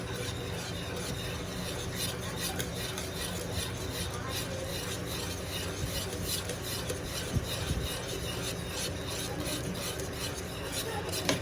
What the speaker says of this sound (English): I think if I whisk enough, it'll get mixed in.